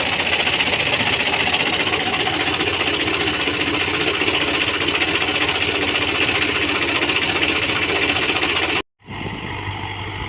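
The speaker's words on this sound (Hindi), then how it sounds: "दबंग tractor 2023 model 85 HP 60 cutter router त्रीजे गेर वधे" A 2023 Dabang 85 HP tractor drives a 60-blade rotavator through a field in third gear, a loud, steady, droning engine chatter with a rattling mechanical texture, briefly cut off near the end.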